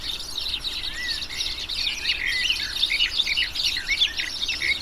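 Bright, rapid twittering and trilling song of a Eurasian siskin or European greenfinch, a dense run of high chirps and buzzy phrases, moderately close over faint background hiss.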